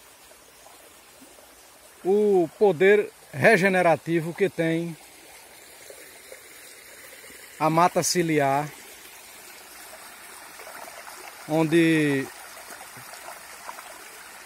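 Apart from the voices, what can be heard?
small stream of water flowing in riparian forest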